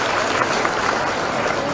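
An audience at a school event, where shoes are handed out to government school students, breaks into dense, steady applause that stays loud and continuous throughout.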